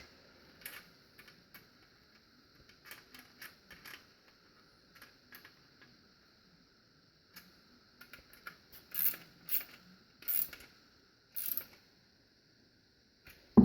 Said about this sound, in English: I'm just going to go ahead and tighten those down